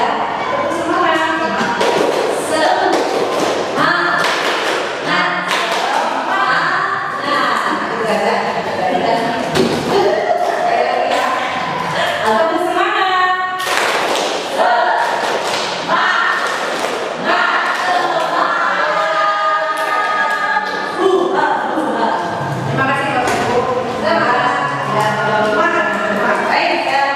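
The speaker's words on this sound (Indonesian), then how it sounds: "Tepuk semangat." A group claps out a rhythmic spirit clap (tepuk semangat) in an indoor session, with sharp patterned bursts running steadily for about half a minute. Voices chant and talk along throughout.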